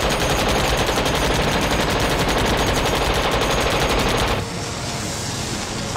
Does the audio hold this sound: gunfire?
yes